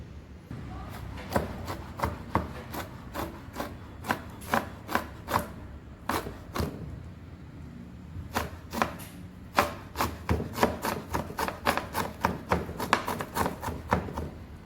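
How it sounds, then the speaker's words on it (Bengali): A knife chops banana flower finely on a board in quick bursts of sharp, close taps, with short pauses between runs. "এবার এগুলোকে আমি একদম ঝিরিঝিরি করে কুচিয়ে নেব"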